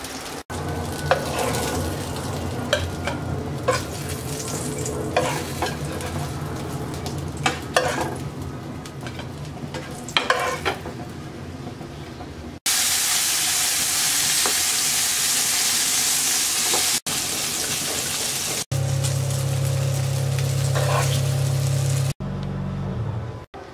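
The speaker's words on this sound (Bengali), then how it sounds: "বেগুন ভাজা হয়ে গেছে" Eggplant frying in hot oil in a wok, a continuous crackling sizzle with occasional stirring clatter, followed by shifting louder hissing sections toward the end.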